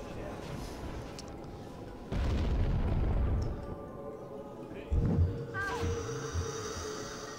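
Two heavy booming blasts from grenades in American McGee's Alice rumble out a few seconds apart, each followed by a fading roar, and a chiming effect sounds at the end.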